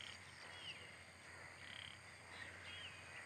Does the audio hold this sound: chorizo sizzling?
no